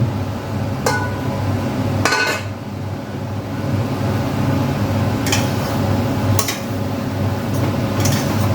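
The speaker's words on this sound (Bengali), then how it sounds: "এবার আমি ঢাকনাটা খুলছি" A metal lid lifted off a cooking pot while a Bengali ash gourd ghonto simmers, giving a few short clinks against a steady background hum of the kitchen.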